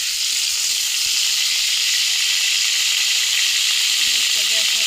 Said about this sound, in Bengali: তেল গরম হয়ে গেছে, এখন আমরা মরিচটা দেবো।